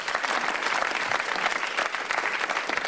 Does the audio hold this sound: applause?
yes